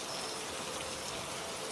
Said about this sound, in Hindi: ये बारिश से रुकने का नाम ही नहीं ले रही है